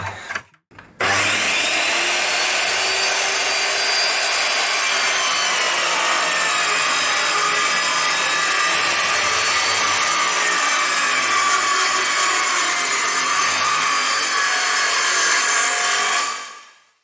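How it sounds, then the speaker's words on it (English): Power saw ripping two strips from a length of timber to make a 15 mm dowel blank, a loud steady whine with wood-rasping grit that runs unbroken for about fifteen seconds, then cuts off. "Let's put the saw up to 15mm, and then we'll cut 2 strips off"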